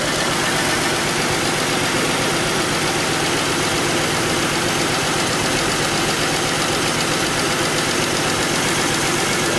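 A 2000 Pontiac Bonneville engine idles with a misfire on cylinder three, a loud, continuous, rough rumble close by under a dense wash of broadband noise.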